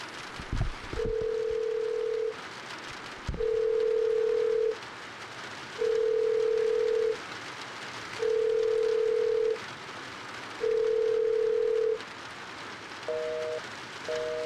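Telephone ringing in a video game, a steady repeating tone of about five even rings with short pauses between them, then a brief different double tone at the end, over a soft rain-like background hiss.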